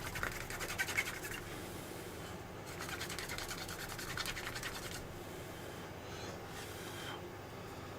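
Close, fast back-and-forth scrubbing of a toothbrush on an iPhone circuit board, rhythmic bristly rasping in bursts with brief pauses between strokes.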